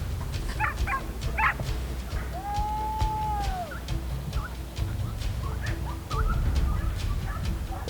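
Hunting dogs yip and whimper in short bursts during a wild boar hunt in Tudela, heard outdoors at moderate distance against steady low background noise.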